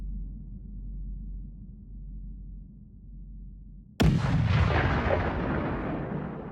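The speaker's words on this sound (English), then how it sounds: "They heard the familiar sound of an incoming cannon shot and saw its impact off to their right" A Civil War cannon fires in battle, one sudden loud boom cutting through a low rumbling background, then a long roaring decay that fades slowly over several seconds.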